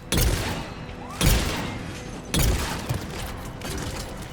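Mass Effect 3 combat firefight against turrets: loud heavy shots and booming impacts, with three sharp bursts spaced about a second apart over a continuous rumble of battle.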